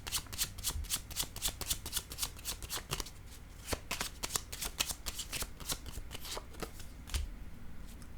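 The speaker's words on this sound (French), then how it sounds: "Je vais déposer une autre carte ici pour cette personne seule en retrait." Tarot cards flicked and shuffled in a quick, steady riffling rhythm, close and crisp, with a few firmer taps as cards are laid down on a table; no talking.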